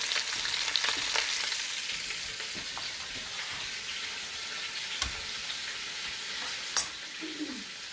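Vegetables hit a hot pan for a chicken cacciatore and sizzle steadily, with occasional sharp clanks of a utensil against the pan.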